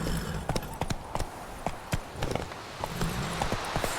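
Hooves of the horse Roach clip-clopping in Witcher 3, a loose irregular series of close hoof strikes over a dense game backdrop.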